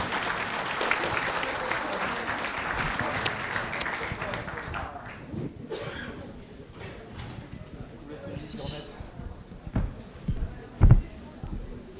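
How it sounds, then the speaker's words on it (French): Applause from an audience at a book-fair author meeting, a dense steady clapping for the first four seconds that thins into scattered claps and murmuring, with a few louder isolated sounds near the end. "Allez, on l'applaudit,"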